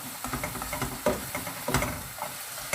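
A spoon works through a chicken teriyaki mixture in a hot pan, soft scraping strokes in an irregular rhythm over a steady low sizzle, close up and fairly quiet.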